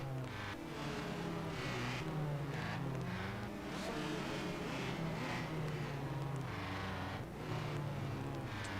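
Race cars lapping a track at Portland during a ten-car club race, engines droning and surging continuously as cars pass, a steady loud wash of engine noise with shifting pitch throughout.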